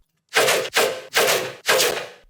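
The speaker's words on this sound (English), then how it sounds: "And then we have these gunshot basses," Four heavy, booming dubstep gunshot bass hits in a row, each a broad punchy blast with a short decaying tail, loud and close, no talking.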